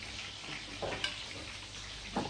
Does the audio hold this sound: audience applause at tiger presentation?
no